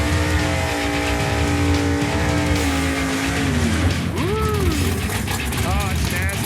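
A lightweight drag racing car makes a pass at a drag strip, its loud engine note climbing steadily through the gears with a sweeping pitch change as it roars past, while an announcer's voice talks over it.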